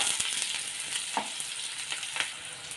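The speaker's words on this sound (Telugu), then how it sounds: "ఉల్లిపాయల్ని ఇలా మంచిగా కలుపుతూ వేయించుకోవాలి." Onions frying in a pan while being stirred, a steady close sizzle broken by a few scraping strokes of the spoon, with no talk.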